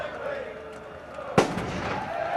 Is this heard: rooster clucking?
no